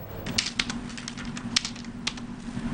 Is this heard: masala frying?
no